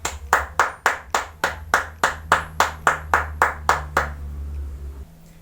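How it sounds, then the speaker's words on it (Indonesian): A classroom of students claps in unison for a classmate, about fourteen sharp, evenly spaced claps in a steady rhythm that stop abruptly, leaving a low hum behind. "Ayo berikan tepuk tangan untuk Rudi"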